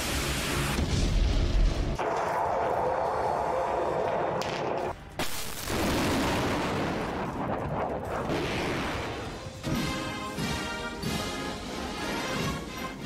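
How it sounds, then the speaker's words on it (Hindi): A nuclear missile launches from a launch pad with a loud, continuous roaring rumble that holds steady, briefly dips, then swells back to a sustained thunderous blast. "लॉन्चिंग पैड से परमाणु मिसाइल की लॉन्चिंग से"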